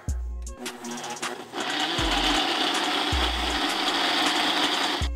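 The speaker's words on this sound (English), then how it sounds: "So you just blend it up. You got the Ninja Bullet, Ninja Blender." A Ninja personal blender starts up after a few thumps and whirs loudly and steadily, a dense motor roar grinding through fruit.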